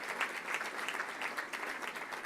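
Steady applause from a seated audience at a public event featuring a governor, dense continuous clapping filling the room with no talk over it.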